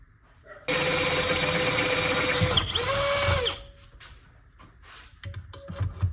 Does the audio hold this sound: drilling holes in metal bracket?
yes